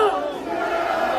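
Crowd at a Korean street rally against a Constitutional Court impeachment, shouting slogans in unison, loud and sustained throughout, with massed voices blending into a continuous roar.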